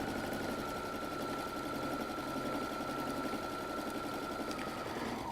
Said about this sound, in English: And now I'm just going to baste that bottom closed